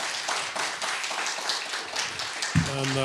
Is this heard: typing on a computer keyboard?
no